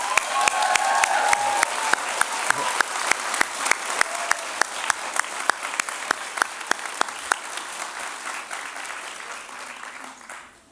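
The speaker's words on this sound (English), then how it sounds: "maybe you could join me in a round of applause for all of them" Sustained applause from a convocation audience honoring graduates' families, faculty and staff, many hands clapping with a few louder nearby claps standing out, gradually tapering toward the end.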